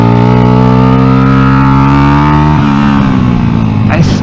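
A Honda NSF100 fitted with a salvaged XR100 engine is ridden hard. Its loud, close engine drones steadily at high revs, then the pitch drops and wavers near the end, with a voice talking over it.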